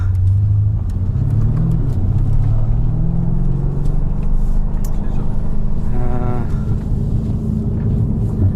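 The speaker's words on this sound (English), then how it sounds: "warming up the tires before a launch" A 625 hp BMW M5 Competition engine rumbles steadily up close, set to two-wheel drive and held at revs to warm the tires before a launch, a continuous loud drone with a rising whine near the end.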